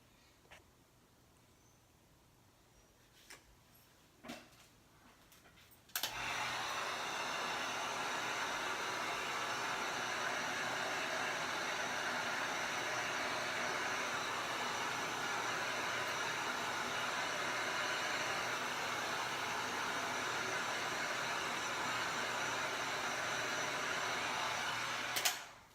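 A hair dryer blows on a gel plate print. After a few faint clicks, it switches on abruptly and runs with a loud, steady whoosh for about twenty seconds before cutting off.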